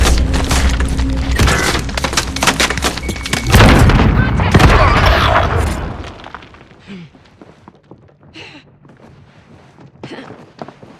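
Gunfire in the game Call of Duty: Warzone: a dense run of loud booming shots and bursts for about six seconds, then fainter scattered reports and clatter further off, with a voice speaking over parts of it.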